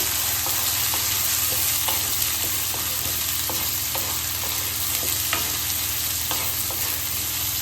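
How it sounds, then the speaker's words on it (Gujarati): Vegetables and maize-millet flour stir-fried in oil in a pan: a steady close sizzle with a spoon scraping and tapping in irregular stirring strokes, and no voices. "આપણે 2 મિનિટ સુધી એને આ રીતે તેલમાં સાતરી લઈશું."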